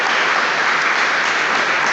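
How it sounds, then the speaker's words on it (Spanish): A church congregation claps for Jesus in loud, dense, continuous applause that fills the whole moment. "denle un aplauso a Jesús"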